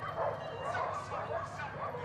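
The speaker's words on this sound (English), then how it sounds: "the sound of dogs barking outside the house" Dogs bark and yip outside a house in a Southeast Asian kampung setting, a rapid string of overlapping barks and whimpers, fairly close and continuous for a couple of seconds.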